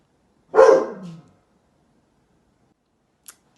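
One close, loud bark from a pet dog indoors, a single sharp yelp that fades quickly into silence, followed later by a faint click.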